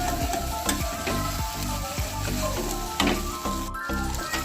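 Egg chicken tarka with tomato ketchup sizzles loudly in a pan as a spoon stirs it, the dense frying hiss broken by repeated scraping knocks against the pan.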